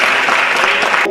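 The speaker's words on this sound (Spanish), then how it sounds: "Démosle un fuerte aplauso" Audience applause fills a hall right after a speaker welcomes a guest, a dense, steady wash of clapping that holds loud and even, then cuts off abruptly near the end.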